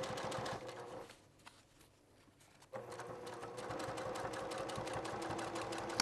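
A sewing machine runs steadily while stitching a padded gear bag, a close, even mechanical hum that stops briefly partway through before resuming at the same pace.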